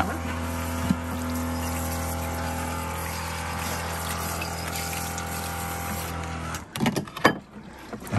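A Joolca HOTTAP portable hot water tap hums with a steady pump drone and running water for several seconds, then cuts off, leaving clatter and handling noises.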